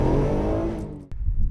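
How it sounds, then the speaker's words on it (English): An Alfa Romeo 147 GTA's V6 engine revs hard and loud nearby, then drops off abruptly before a short burst of renewed engine noise, with no talk. "It's such a sweet engine. It revs so sweetly."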